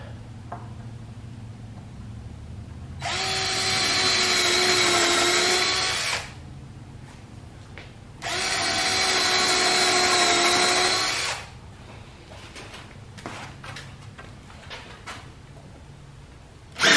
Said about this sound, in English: and then I'm going to drill my holes.